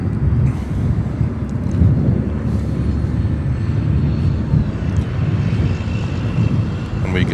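An Air China Boeing 747 lands on runway 10 Center at Chicago O'Hare, a loud, close, steady low engine roar mixed with wind buffeting on the microphone throughout, with no clear voices.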